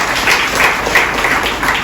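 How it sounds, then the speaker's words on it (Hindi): A church congregation claps together during a sermon: a short, dense wash of applause from many hands, steady and fairly loud throughout, with no clear break. "परमेश्वर के वचन के लिए जोर से ताली बजाइए।"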